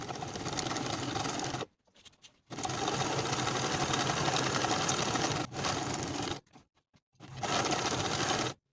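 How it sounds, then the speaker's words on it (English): Stitching a bow tie top's collar seam at 3/8 inch allowance, a sewing machine hums loud and close in long continuous runs broken by brief pauses, with no voices over it. "Sew from the bottom edge across the top and down the opposite side edge with the 3/8 inch seam allowance."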